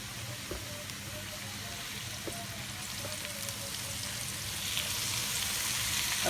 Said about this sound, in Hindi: डीप फ्राई करना है हमने घी के अंदर।